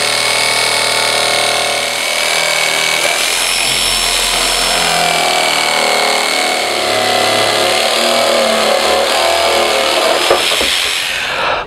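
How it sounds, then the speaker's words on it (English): A jigsaw cuts triangles out of the bottom of a plastic drum, a loud, continuous buzzing whine with a steady rasp that holds throughout and cuts off abruptly at the end. "Then I'll use the jigsaw, place it in the pilot hole, and just follow the lines that we drew on the bottom of the drum."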